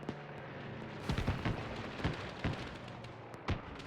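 Artillery rounds in Arma 3 land as a series of dull, booming impacts, several thuds spaced irregularly across a few seconds over a low rumbling background, moderately distant and fairly quiet.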